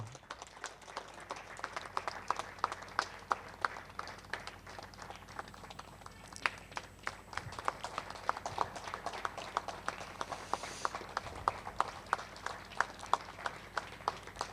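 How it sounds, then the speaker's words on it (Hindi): Audience at a seminar in a Jaipur restaurant keeps up sustained applause, a dense crackle of many hands clapping with sharper individual claps standing out throughout. "ताली रुकनी नहीं चाहिए।"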